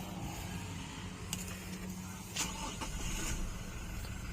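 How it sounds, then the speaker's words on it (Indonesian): Toyota Fortuner TRD, 2021 model, being started, heard from nearby as a quiet steady engine hum with a few brief clicks and a small surge partway through, low in level, with no talking. "Kita langsung hidupkan aja mobilnya."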